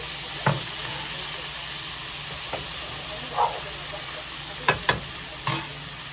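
Cabbage sizzles and steams in a pan after a little water is added for jerk cabbage, a steady hiss broken by a few brief clinks of a utensil.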